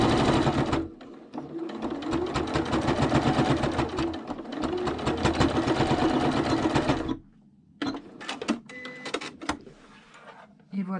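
A sewing machine runs a steady, rapid stitching pattern along the edge seam of a fabric face mask for about seven seconds, then stops and gives way to quieter handling clicks and fabric rustling.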